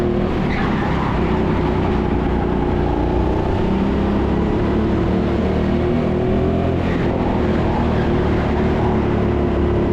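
Go-karts race around an indoor karting track, a loud continuous engine drone with rising and falling revs throughout, filling the whole stretch without pause.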